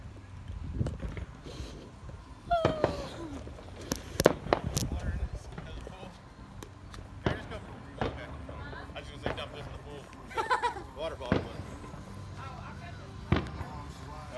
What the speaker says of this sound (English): More fireworks over there, I think.